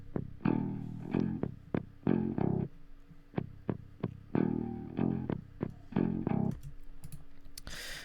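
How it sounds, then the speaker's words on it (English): Distorted electric guitars tuned an octave low play short, choppy palm-muted chugs in a stop-start rhythmic pattern, gritty and mid-heavy, with brief gaps of silence between bursts. "once you distort the lower octave guitars, like they kind of get like some stuff going on in the mids"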